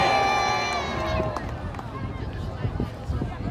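At an airshow, a crowd bursts into cheering and shouting, loud and close at first with bright overlapping voices, then settling into a scattered hubbub of chatter.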